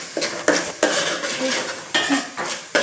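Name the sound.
stirring curry leaves into fish curry in a pan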